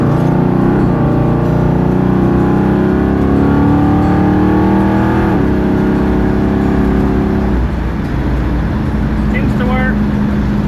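A 1964 Plymouth with a new big-block Mopar engine pulls onto the highway, its loud, close engine drone rising steadily in pitch through the gears as it accelerates, then settling into a lower cruising roar.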